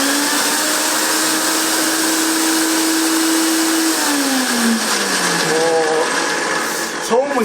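A FEMI 787DAXL band saw runs with a loud, steady mechanical whine and broadband motor noise; partway through, its humming tone drops lower, and it continues nearby without pause.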